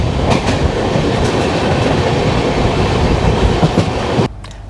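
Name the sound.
Gwalior Kolkata Superfast Express train running on rails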